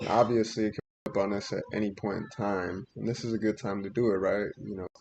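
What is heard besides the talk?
None of the usual background noises is heard.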